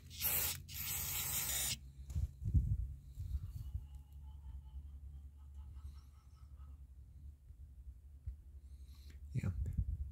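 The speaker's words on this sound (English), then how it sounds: "the carburetor cleaner is definitely going down inside the holes, so we can assume that they're not plugged" Carburetor cleaner sprays into the small holes of a 1998 Kawasaki ZXI 1100 carburetor in short, loud hissing bursts, one near the start and another at the end, with quiet handling noises between.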